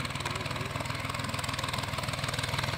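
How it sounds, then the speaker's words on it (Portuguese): A tractor engine chugs steadily while digging up potatoes in a field, a close, rhythmic mid-pitched rumble with a regular pulsing beat and no voices. "E agora o trator que vem jogando a terra ali, ó, pra tirar as batatinhas."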